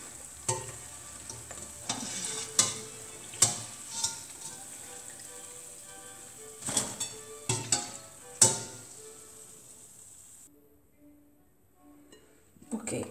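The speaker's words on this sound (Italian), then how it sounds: "Ok, allora io continuo a friggere." Pettole dough frying in hot oil, a steady soft sizzle with a series of sharp stirring clatters and utensil knocks, then quieter frying toward the end.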